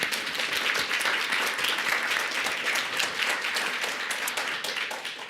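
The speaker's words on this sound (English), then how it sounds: "If we can give them a round of applause." Lecture audience breaks into a full round of applause for a group, dense, steady clapping from many hands close by, sustained evenly without any voices over it.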